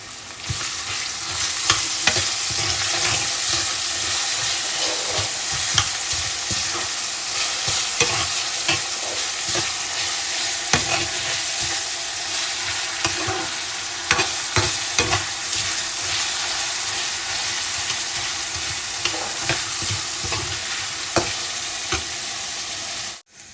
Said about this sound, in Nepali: बग्लाउ हालेर भुट्नु